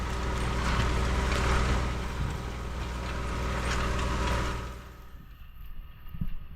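A big white farm tractor's engine runs steadily as a loud, continuous low rumble, then drops off toward the end.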